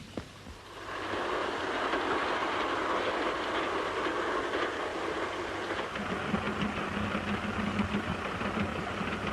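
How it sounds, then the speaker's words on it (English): A steam-era train running on rails in a 1936 thriller, a steady loud rumble of wheels and engine that swells up after a quiet moment and continues without pause, with no speech. "Look, I can see the train."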